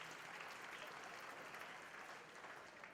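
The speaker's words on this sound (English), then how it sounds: "A big round of applause for all of our athletes that are in the house." Awards ceremony audience applauding athletes: an even, continuous wash of clapping from a large hall, fairly faint and steady for the whole stretch.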